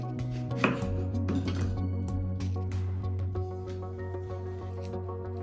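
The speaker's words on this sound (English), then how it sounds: "I cut apples and pick out them stones" Apples are cut on a board for an apple pie, a few sharp knife chops early on with faint clinks of kitchenware, over a steady low hum, no voices.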